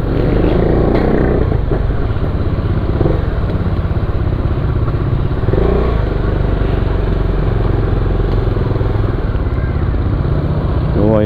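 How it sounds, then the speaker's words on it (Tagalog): A motorcycle engine runs steadily at close range, a constant low rumble that fills the whole stretch with a few faint rattles. "nagsi-check engine yung ating motor"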